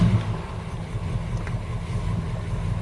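Jaguar XJ12 V12 engine running on LPG, a low, steady idle rumble close by with a slight rough pulse and no voices.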